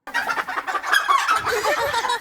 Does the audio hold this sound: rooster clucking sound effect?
yes